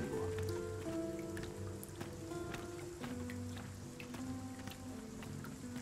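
Steady rain falls over the city of Vernworth in Dragon's Dogma 2, a soft continuous patter layered with low ambient tones and scattered faint clicks, with no talk.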